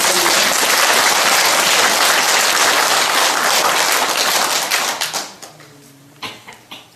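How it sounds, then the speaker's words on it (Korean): Audience at a Catholic Charismatic Renewal prayer lecture in Incheon claps in a loud, dense burst that fills the room, then thins into a few scattered claps and fades out. "이럴 때 박수 한번 보내주세요."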